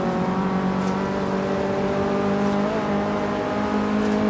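A hatchback's engine accelerates hard in the racing game Forza Horizon 3, a loud, continuous revving roar with steady engine tones and no break.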